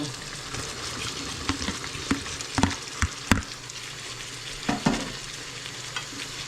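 Chayote pieces frying in a pan with sweet-and-chili chicken breast give a steady, close sizzle, broken by scattered clatter from stirring and a few sharper scrapes.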